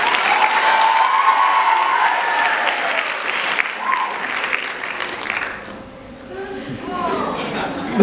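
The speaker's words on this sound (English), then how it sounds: "Give a round of applause for Mr." Audience applause at a school pageant-style contest, a broad wash of clapping with crowd noise that carries on for several seconds, then fades and swells again near the end.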